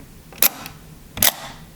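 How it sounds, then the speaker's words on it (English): Two crisp mechanical shutter clicks, about a second apart: first a Leica IIIg, then a Fed rangefinder camera, each fired at 1/25 second without a lens fitted. Both are close and isolated, and the second is slightly louder. "let's listen to the shutter sound. Here we have it at 1/25 of a second. Leica IIIg and then the Fed one."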